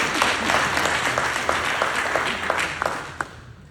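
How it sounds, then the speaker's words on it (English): Audience clapping at an LAPD Martin Luther King Jr. Day brunch, a steady patter of hands that thins out toward the end with a few last distinct claps. "You can clap."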